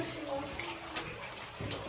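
Steady, hushed rush of running water underground in Black Hills Caverns, continuous and fairly faint, with a hollow, echoing quality and occasional small splashes.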